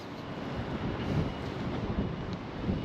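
Wind blowing outdoors in an open container-loading area buffets the microphone with a steady low rumble and soft gusts, moderate in level, with no voices.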